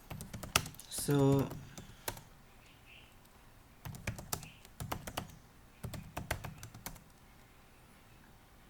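Quiet clicks of a computer keyboard as a password is typed, short bursts of keystrokes spread across the clip, with a brief spoken word early on.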